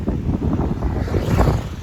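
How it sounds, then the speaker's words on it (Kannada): Strong wind buffeting the microphone while cycling near a stone crusher on the way to Manchanabele Dam, a steady low roaring rumble throughout with no talk. "ಇದು ಆ್ಯಕ್ಚುಲಿ ಗಾಳಿ ಜಾಸ್ತಿ ಬರ್ತಾಯಿದೆ ಗೈಸ್. ಸೌಂಡ್ ಕೇಳಿಸ್ತೈತಾ? ಗಾಳಿ ಬರ್ತಾಯಿದೆ"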